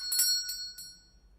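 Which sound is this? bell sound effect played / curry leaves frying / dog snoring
bell sound effect played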